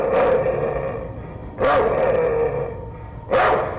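Dogs bark in the video game Night People, three loud, separate barks spaced about a second and a half apart, each ringing briefly over a low background hum.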